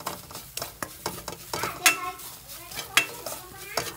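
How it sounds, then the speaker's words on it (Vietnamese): Minced galangal is stir-fried in a pan over the flame while a utensil scrapes and taps the metal, giving a quick series of sharp clinks and scrapes over a soft sizzle. "Sau khi băm xong thì chúng ta sẽ cho vào chảo như thế này và xào lên qua lửa"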